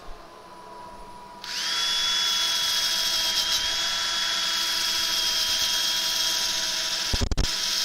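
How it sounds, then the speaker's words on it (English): A wood lathe with a disc mounted for turning a gnarly crotch piece starts up after a short quiet moment, then holds a steady, loud, high motor whine, with a brief knock near the end and no talking. "Start the lathe."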